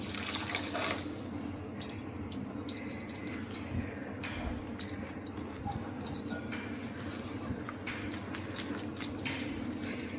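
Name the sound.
pouring lentil (dal) cooking water into gram flour batter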